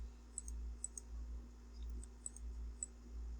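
Sparse, crisp computer mouse clicks come every half second or so, quiet against a steady low hum, with no voices.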